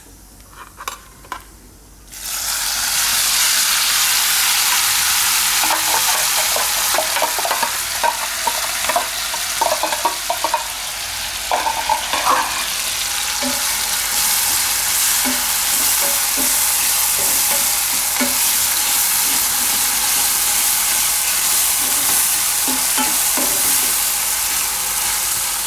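Green chillies dropped into hot oil with kalonji seeds, a quiet moment giving way to a loud, sustained sizzle, with spoon scrapes and clinks against the pan scattered throughout.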